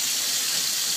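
Cleaning powder sizzles as it meets water in a sink, a steady bright fizzing hiss heard close and unbroken, with no talking.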